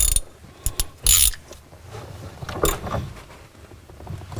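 A ratchet tightens a fitting on a classic VW Beetle with a few quick, close clicking bursts early on, followed by softer handling noises and low rustle.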